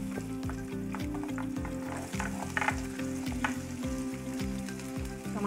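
Onions frying in hot oil in a pan, with a steady close sizzle and crackle and occasional stirring scrapes, alone and without talking.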